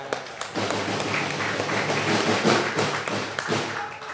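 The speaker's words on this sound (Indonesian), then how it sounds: "Tepuk tangan." A studio audience on an Indonesian football talk show claps, a steady, dense patter of many hands with a few sharper slaps, sustained over a faint tonal hum.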